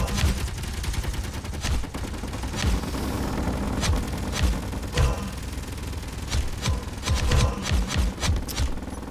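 Gatling turrets on a ship in Space Engineers fire in a steady stream of rapid bursts, with sharp cracks repeating throughout over a dense mechanical rumble, loud and fairly close, no voices.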